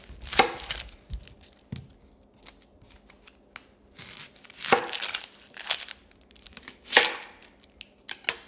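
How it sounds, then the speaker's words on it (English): A kitchen knife slices through an onion for beef stroganoff, producing sharp, irregular cutting clicks and crisp crunches at close range, some bunched together and some isolated, over quiet background. "that's one way to slice an onion"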